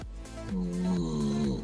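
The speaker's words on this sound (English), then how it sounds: "somebody's fucking snoring." A man snoring while out cold, with low rasping breaths and a rising drawn-out inhale, close and moderately loud, with no talk over it.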